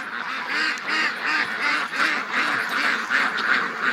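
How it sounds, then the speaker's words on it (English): A flock of ducks quacks continuously and loudly on a morning rush to water, the calls overlapping in a steady, rhythmic chorus close by. "Come on out, ducks."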